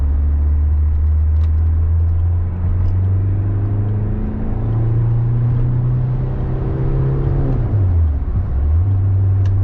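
A 1993 Citroën ZX 1.9 turbo diesel accelerates to overtake a truck, its engine drone rising steadily in pitch, dipping briefly near the end and climbing again over constant road rumble.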